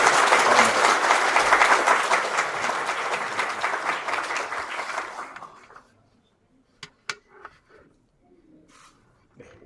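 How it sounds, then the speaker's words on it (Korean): Wedding guests in a church ceremony applauding warmly, a dense loud burst of clapping that fades out after about five seconds, leaving near silence broken by a few faint knocks and rustles. "뜨거운 박수로 환영해 주시고요."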